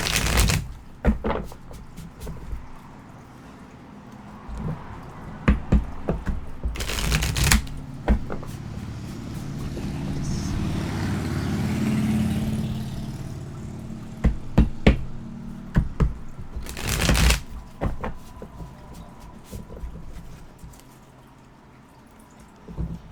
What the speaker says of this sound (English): I'm feeling the need to shuffle a lot